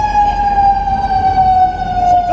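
A fire truck siren wails steadily on a city street, loud and close throughout, with a continuous sustained tone that falls slightly in pitch as it passes.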